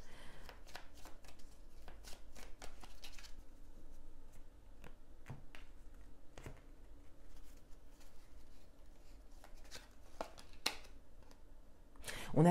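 Tarot cards shuffled and drawn, soft riffling flicks and crisp snaps clustered in quick bursts with quieter gaps between, close but faint against a low background.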